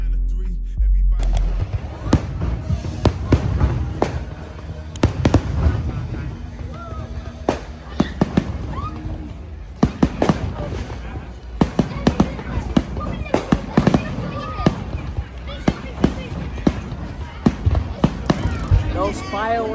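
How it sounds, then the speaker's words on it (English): New Year fireworks at Hua Hin Beach, Thailand, crack and boom in rapid, irregular bursts, loud and close, with people cheering and talking throughout. "Those fireworks went crazy, and they still got them coming."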